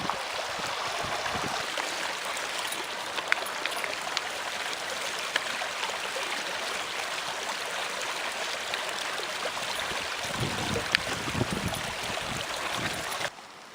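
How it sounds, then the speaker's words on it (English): A river on Dartmoor flows in a steady, close rush of water that carries on unbroken for the whole stretch, with no talking. "this is the first river I've come across"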